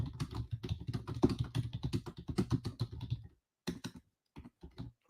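Quick bursts of typing on a computer keyboard, a busy clatter of keys for a few seconds, then a pause and a couple of shorter scattered runs of keystrokes, close and fairly soft.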